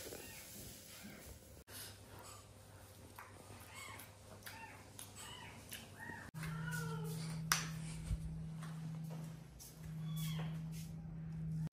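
A mother cat meows repeatedly and plaintively nearby, calling for her kitten, over a steady low hum in a home setting.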